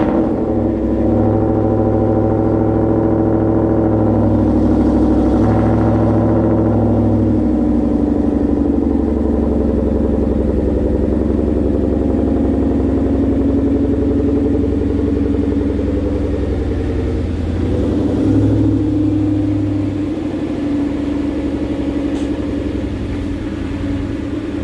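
A car engine cold start settling into a steady, loud idle, close up, with a continuous low rumble and slight clatter that holds evenly throughout with no talk.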